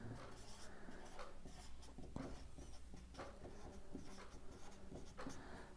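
Pen strokes scratch softly across paper while a math equation is worked out, a continuous faint scribbling with light taps over a low background hum.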